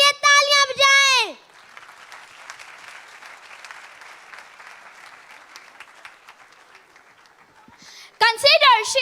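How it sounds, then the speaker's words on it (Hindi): Audience clapping at a convention event, a steady mid-level patter of many hands set between loud bursts of amplified speech at the start and end. "Clap for them."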